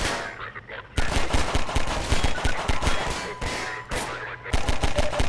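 Loud, sustained automatic gunfire in the Half-Life 2 video game, rapid continuous bursts with brief gaps near one and four seconds, dense and close throughout.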